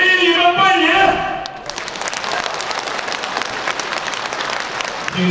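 Audience applause at a Spring Festival gala hall fills the room after someone speaks over a microphone, the clapping loud, dense and sustained for several seconds.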